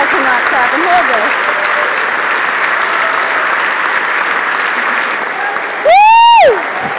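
A crowd at a Ron Paul political rally applauds steadily for several seconds in a broad wash of clapping, followed by a brief loud whoop or feedback squeal near the end.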